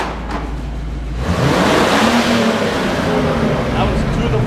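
A stock-exhaust Mini Cooper engine revved hard at full throttle, a loud sustained roar that swells in after a second and holds, with voices talking over it.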